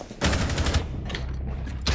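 Pistol gunfire in a ranked shooter match, with a cluster of quick close shots at the start, a steady rattle of fire in the middle and another burst at the end.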